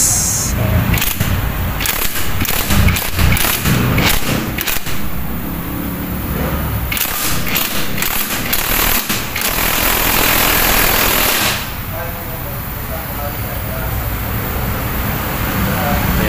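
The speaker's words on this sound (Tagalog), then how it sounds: "testing natin gamit ang ating impact tools" A cordless impact tool drives a motorcycle mini lifter, firing loud, rattling hammering bursts separated by short pauses, then giving way to quieter background noise.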